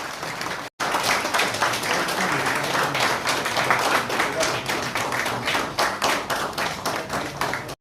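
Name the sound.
applause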